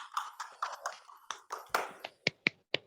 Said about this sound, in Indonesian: Tepuk tangan buat Yuli.